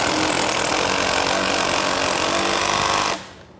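Hilti HUS 3 screw anchor driven into a pre-drilled hole by a power tool, a loud continuous harsh grinding buzz held steadily for about three seconds before cutting off abruptly into quiet.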